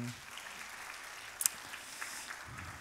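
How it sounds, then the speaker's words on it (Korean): Faint, steady applause from a church congregation at a young adults' worship service, a soft even patter of clapping that holds for about three seconds with a couple of slightly sharper claps near the middle. "저희들 다시 한번 영광의 박수 올려드리겠습니다."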